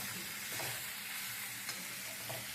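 Ladies' finger (okra) sizzles while being sautéed in hot oil, a steady broadband frying hiss with a few soft stirring scrapes, close and moderately quiet, no voices.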